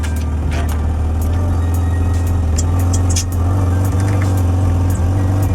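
A Mazda MX-6 V6 idles loudly through a blowing exhaust leak, a heavy constant low drone with a rough, puffing rasp that holds steady and close throughout.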